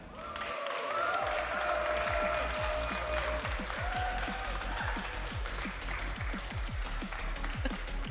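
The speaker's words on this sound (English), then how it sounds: "Please give a round of applause for HaydonusActual." A crowd applauds steadily at a Pokémon regional championship in Vancouver, the clapping dense and sustained with a few louder claps standing out near the front.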